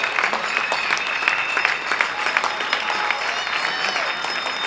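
People applauding from their balconies, a continuous stretch of distant clapping from many hands, steady and moderately loud.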